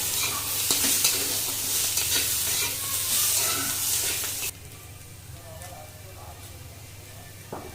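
Gima greens and potato are stirred and fried in a pan, with a loud, continuous sizzle and scraping for about four seconds. The sizzle then drops to a quieter, steady frying hiss.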